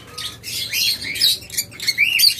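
Pet lovebirds, cockatiels and budgerigars chirp and squawk together in a steady, busy chorus of overlapping high calls that never pauses, loud and close throughout.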